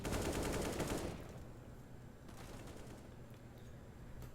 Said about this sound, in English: but like actually shooting the door itself,